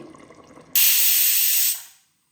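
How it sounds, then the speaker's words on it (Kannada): A pressure cooker on a stove, cooking mutton gravy, gives a loud, sudden high steam hiss that holds about a second before cutting off, over faint low background noise. "ಇವಾಗ ಇದಕ್ಕೆ ನಾನು ಲಿಡ್ ಕವರ್ ಮಾಡಿಬಿಟ್ಟು 1 ವಿಷಲ್ಲು ಕೂಗಿಸ್ಕೊಳ್ತಾ ಇದ್ದೀನಿ"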